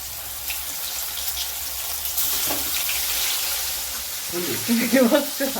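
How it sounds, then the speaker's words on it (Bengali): Pieces of aar fish dropped into hot oil sizzle and spit steadily, a close, continuous crackle with a burst of louder clattering and bubbling near the end. "মাছ দেওয়ার সঙ্গে সঙ্গে ফোটা শুরু হয়ে গেছে অলরেডি।"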